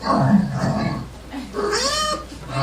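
A person imitates a cat's yowl, a rising and falling mewing wail that follows some earlier vocalizing, heard fairly close and loud.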